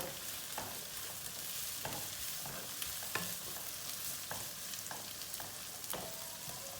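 Green peppers and onions sautéing in a pan, a constant sizzle with periodic scraping clicks of stirring every second or so, close and without talk.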